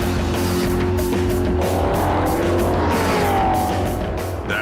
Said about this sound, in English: That speeds up the gear changes, backs off the traction control, and turns the exhaust all the way up to 11